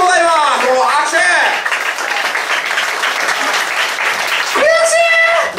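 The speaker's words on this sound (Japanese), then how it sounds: "もう拍手。" An audience at a results announcement for a competition gives steady applause, with excited voices and shouts rising over the clapping at the start and again near the end.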